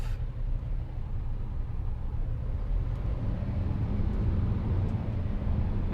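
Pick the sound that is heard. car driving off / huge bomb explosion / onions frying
car driving off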